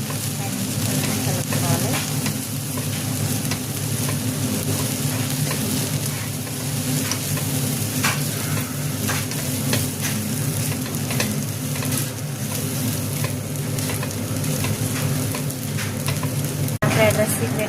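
Egg and prawns frying and being stirred in a pan for prawn fried rice, a steady loud sizzle with scraping stirs throughout, a voice speaking briefly near the end.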